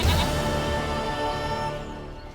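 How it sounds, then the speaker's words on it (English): A goat in The Witcher 3 video game lets out one long, close, wavering bleat that fades out at the end. "Goat of mine, dearest, sweetest goat."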